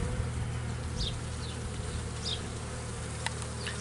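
Honeybees buzz steadily around an open hive being inspected, a dense close drone with individual bees whining past now and then.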